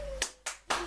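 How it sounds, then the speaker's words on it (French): A few quick bursts of hand clapping from a studio group, three short sharp claps spaced across a second, close and fairly loud over a faint steady hum. "Alors, bah allez-y, applaudissez."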